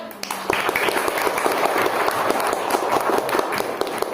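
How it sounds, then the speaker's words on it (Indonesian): A classroom crowd bursts into applause, many hands clapping in a dense, lively patter that carries on steadily. "Tepuk tangan boleh?"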